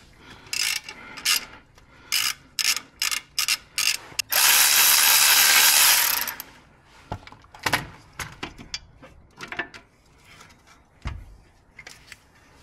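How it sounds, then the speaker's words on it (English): Hand tools working on a car clutch pressure plate: a run of sharp evenly spaced ratchet clicks, a couple of seconds of continuous loud ratcheting or spinning, then scattered metallic clanks and knocks. "removing the pressure plate and clutch, not the flywheel"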